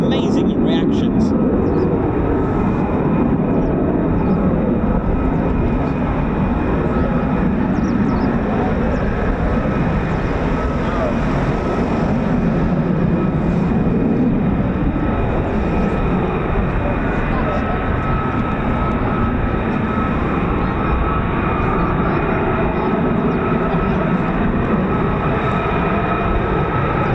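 US Air Force F-15 and F-35 fighter jets at RAF Lakenheath with the 48th Fighter Wing produce a continuous, loud, roaring engine rumble that stays steady and close for the whole stretch, with voices talking underneath.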